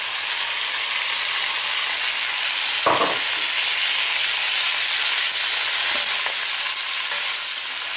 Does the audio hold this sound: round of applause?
no